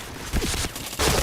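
Brief gunshots in a shooting video game, with two or three close, sharp bursts in quick succession within about a second.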